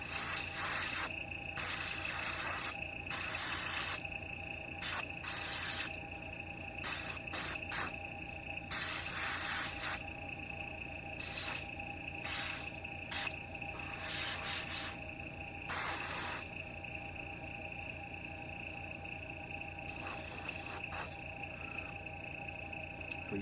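An airbrush sprays paint onto a painted figure's hands in repeated short hissing bursts of varying length, close and fairly quiet over a steady background hum, with no talking.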